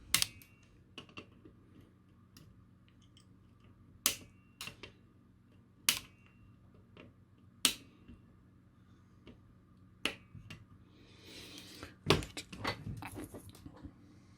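Wire cutters snip the legs off LED components on an 8-point LED star kit, giving sharp, isolated clicks spaced a second or two apart. A cluster of quicker clicks follows near the end, all close and quiet.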